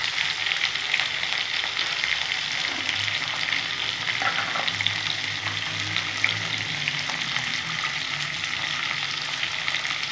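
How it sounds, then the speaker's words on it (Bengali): Bitter gourd and plantain pieces fry in a pan, giving a loud, continuous close-up sizzle with soft stirring, no voices. "উচ্ছে আর কালো কলাটা ধুয়ে রেখেছি, এগুলো একটু ভাজা ভাজা করে নেব"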